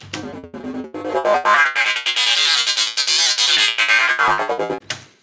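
A synth patch made on an Argon 8 synthesizer plays a melodic phrase of harmonically rich, plucky tones, close and steady in level, notes rising and shifting in pitch before cutting off with a final short hit.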